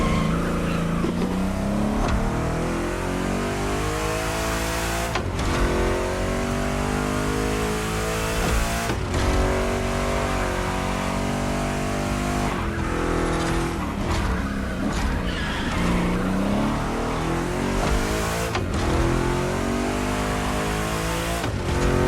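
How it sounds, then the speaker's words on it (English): Two big-block Chevy cars race in a video game, their engines revving hard and rising and falling in pitch through repeated gear changes, loud and close, with brief tire squeals between bursts. "Two Chevys, two big blocks, but only one winner."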